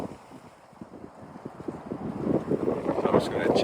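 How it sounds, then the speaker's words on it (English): Wind gusts and buffets steadily, building louder toward the end, a rough rushing noise close to the microphone. "It's windy again. It is windy."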